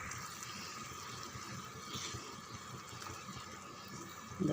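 Water is poured into a pot of potato and carrot gravy, a faint steady trickling and splashing with soft kitchen background and a knock at the end.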